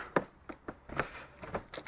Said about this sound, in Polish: Z kluczyka zamknąć